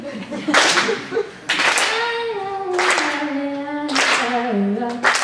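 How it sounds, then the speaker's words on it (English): Group clapping along to a song at a storytelling event, four or five sharp bursts at a loose beat, with a sung voice holding long notes between and under the claps. "Can you clap with me?"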